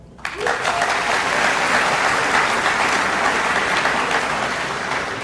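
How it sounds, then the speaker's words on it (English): A crowd at a military training group activation ceremony bursts into loud, sustained applause that starts abruptly and keeps a steady level for several seconds before easing slightly. "Give me a round of applause for protocol."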